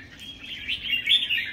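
A wild-caught, untrained songbird chirps and sings in a steady, bright run of close, fairly loud calls that swell toward the end, with no voices over it.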